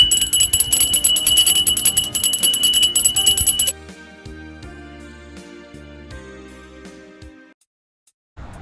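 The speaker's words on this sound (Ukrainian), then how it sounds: "Цей дзвоник для вас." School last-bell ceremony bell, a loud, rapid, continuous electric ringing for nearly four seconds that cuts off abruptly, followed by quieter music trailing away into silence.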